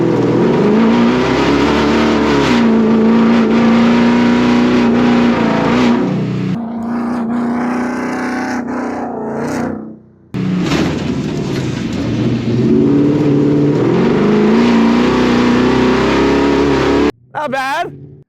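A Ford Bronco Baja race truck engine revs loudly and sustained while driving, with rising and falling pitch, a drop-off mid-way, then a return to a steady roar, and a voice talking over it.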